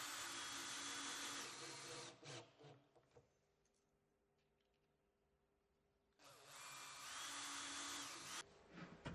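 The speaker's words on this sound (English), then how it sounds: "Use a cordless drill to bore several pilot holes through the hinge leaves before inserting fixing screws in the top and bottom hinges." Cordless drill boring pilot holes through the steel leaves of door hinges while hanging a door, two loud sustained bursts of high whining drilling separated by a few seconds of quiet, close by.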